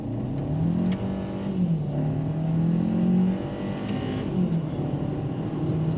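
A 2024 Hyundai Kona pulls away from a stop and accelerates, its engine note rising and falling through gear changes in a steady, moderately loud in-cabin drone with no talk over it.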